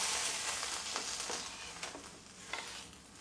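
Roasted green chillies sauté in oil in a hot kadhai over a low flame, giving a steady close sizzle broken by a few scraping stirs.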